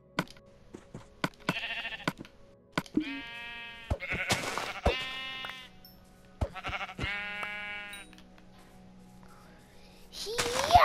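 Minecraft sheep bleat several times in short bursts, with a low steady hum and scattered clicks beneath, then a brief louder noise at the end.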